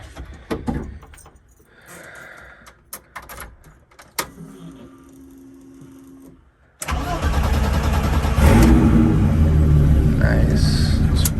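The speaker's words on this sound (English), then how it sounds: "cold start" Scattered clicks and handling noises come first, then a BMW E30 325e turbo track car fires up from cold and holds a loud, rough, steady idle close by.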